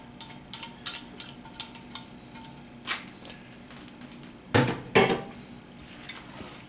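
Ground beef being stirred in a pan, a spatula scraping and tapping in scattered light clicks, with two louder scrapes near the end; no voices.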